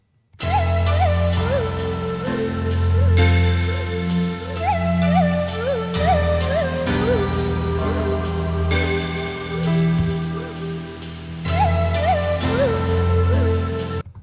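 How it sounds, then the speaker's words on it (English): The healing theme from the video game Shin Megami Tensei III plays as a calm, loud synth piece: bell-like melodic notes over thick layered sustained pads, steady and continuous throughout. "the healing theme from Shin Megami Tensei III, which sounds like this"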